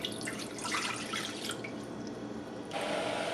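Water runs and splashes steadily into a pot, filling it for boiling while making cream of rice, heard alone and fairly close throughout.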